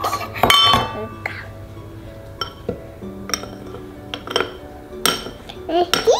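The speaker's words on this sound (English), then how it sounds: "Now stir it up with your spoon." A spoon clinks and scrapes in a bowl while a toddler stirs homemade play dough mixture, with sharp scattered clinks between softer stirring sounds and a voice briefly heard.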